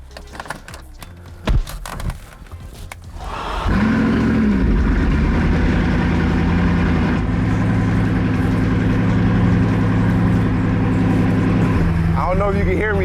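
A car engine idles loudly and steadily after a few seconds of knocks and shuffling, its low rumble continuous and close.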